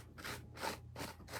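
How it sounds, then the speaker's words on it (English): Quick back-and-forth sanding strokes, four rough rasping passes in a steady rhythm, close and quiet with no other sounds. "and I'm going to sand down,"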